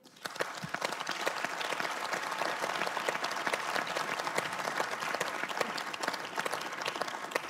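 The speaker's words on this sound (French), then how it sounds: "On peut les applaudir." An audience breaks into applause, starting with a quick swell and then holding as a steady, dense patter of many hands clapping at moderate distance.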